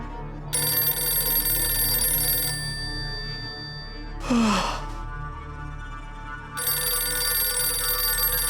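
A telephone rings in two long electronic trilling bursts separated by a pause, with a sharp gasp or sigh sounding between them in an indoor setting.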